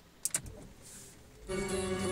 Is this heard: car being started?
yes